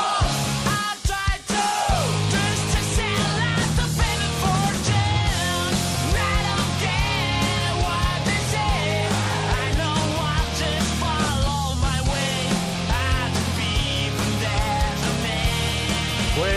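A rock band playing a song on a Spanish TV quiz show, a dense, loud full-band mix with vocals and drums that runs continuously after a brief break near the start.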